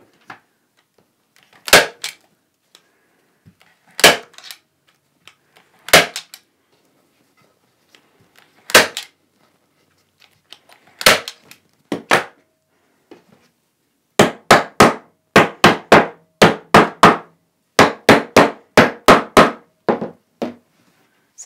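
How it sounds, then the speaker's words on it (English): Sharp, loud staple gun shots drive staples through fabric into a wooden pressing board, first as spaced single snaps, then in quicker bursts of clustered clacks, each close and isolated against quiet. "I like to start in the middle with stapling and staple all the way out to these folded"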